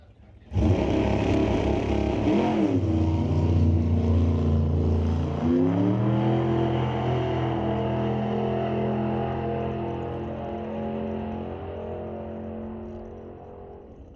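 Super Gas drag car at an NHRA divisional race thunders off on a solo qualifying pass, a loud, sustained engine roar with rising pitch through the gear shifts, slowly fading as it pulls away down the track.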